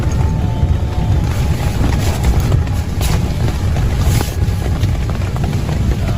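Heavy rain pours down with wind rushing outside, a dense, steady roar with gusty noise on the microphone throughout, close and loud, no voices.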